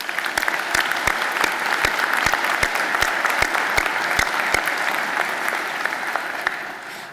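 Sustained, dense applause from an audience at a college recognition ceremony for the Edwards College of Humanities and Fine Arts, steady and close for several seconds with a few sharper individual claps standing out.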